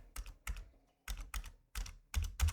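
Bursts of typing on a computer keyboard while entering a formula in Excel, about seven clustered runs of quick keystrokes separated by short pauses, close and fairly quiet.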